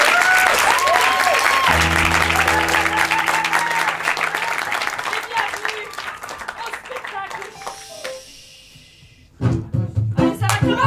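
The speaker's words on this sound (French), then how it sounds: "On aimerait bien avoir quelques petits applaudissements spontanés" Audience applause at an improv theatre festival show, a burst of clapping that tapers off gradually, with a voice speaking over parts of it and a sudden noisy rise near the end.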